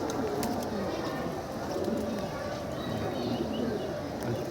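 Pigeons coo softly while bathing, with dense splashing and fluttering close by and a steady busy texture throughout.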